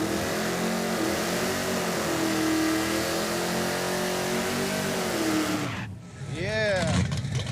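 A Pontiac Firebird drag car with fresh spark plugs and a raised rev limiter holds a loud, steady high-rpm engine roar, then abruptly cuts out before sweeping rising and falling revs, with a voice speaking over it.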